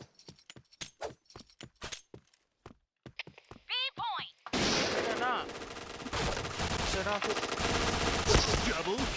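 Gunfire in the first-person shooter video game Point Blank: a string of sharp single shots, then a dense, loud burst of rapid automatic fire with clattering game effects, and players talking over it.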